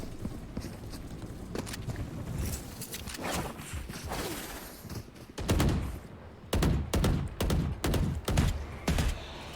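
Gunfire from a Valorant match cracks in scattered shots, then a series of loud, rapid bursts near the end, with faint commentary underneath.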